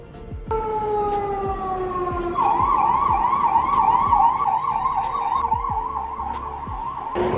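An ambulance siren wails close by in rain during flooding in Siraj Valley, rising into a fast warbling yelp over the hum of traffic and passing cars.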